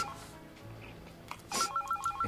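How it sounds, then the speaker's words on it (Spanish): A telephone rings in a Spanish-language telenovela scene, a stepped electronic ring pattern entering after a quiet stretch and repeating loudly near the end. "Esta charla está mucho más interesante que atender el teléfono."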